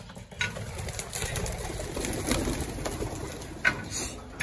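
Racing pigeons cooing in a loft, soft throaty coos and bird calls over a busy background of rustling and faint clatter, fairly close.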